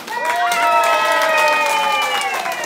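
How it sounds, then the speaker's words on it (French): A crowd at a nursing-home Miss and Mister pageant claps loudly and steadily, mixed with whoops and high cheering voices that hold above the applause throughout. "mesdames, messieurs, 3 applaudissements"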